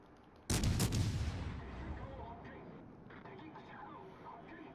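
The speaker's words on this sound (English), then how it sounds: "It's the first time I've shot these guns, and they do seem pretty good." Naval guns aboard the Azuma cruiser in World of Warships fire in one sharp, heavy salvo, a loud close blast that rolls off into a long rumbling tail with someone talking over it.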